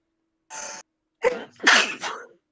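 A sharp, loud sneeze close by, preceded by a quick breathy intake and followed by a short trailing exhale.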